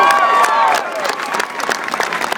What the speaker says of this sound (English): But man Dermot, give him a round of applause.